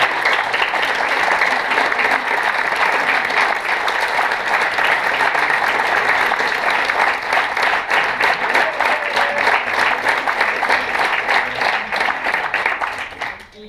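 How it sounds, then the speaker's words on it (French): Sustained audience applause at a recital, dense and steady clapping for about thirteen seconds before tapering off at the end. "Je vous demande de l'applaudir aussi."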